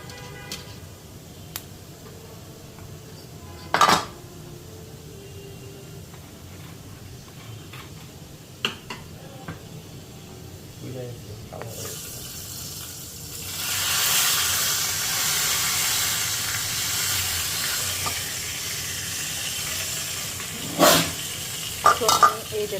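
Raw momos land in an oil-brushed pan and start frying, a steady close sizzle and hiss that swells midway and runs on, with a few sharp knocks of the pan before and after.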